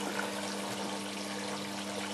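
Steady rushing of water pouring continuously into a washing machine, a constant hiss with no breaks, fairly close.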